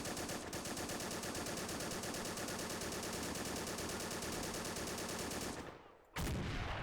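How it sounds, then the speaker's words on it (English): Machine gun fire in Men of War Assault Squad 2, a long unbroken rapid burst of game gunfire, dense and steady, ending abruptly with a final loud crack. "So we have to take out guys with this machine gunner."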